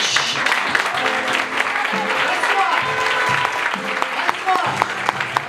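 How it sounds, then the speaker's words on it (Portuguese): A church congregation claps continuously and loudly while a voice speaks over the applause, with occasional sharper claps standing out near the end. "Agora nós vamos aplaudir ao Senhor igual o crente."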